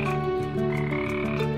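Frogs croak in a pond in a children's animal tale, a steady, dense chorus of overlapping croaks that fills the whole moment without any voices.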